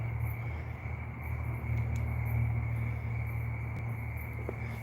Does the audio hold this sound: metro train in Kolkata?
no